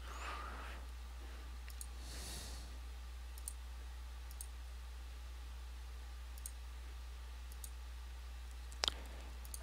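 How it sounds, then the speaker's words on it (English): Computer mouse clicks while checkboxes are ticked next to race track names, a string of faint, sharp, isolated clicks spaced irregularly over a low steady hum, with one louder click near the end. "I've selected 10 races by clicking the little checkbox next to the track name"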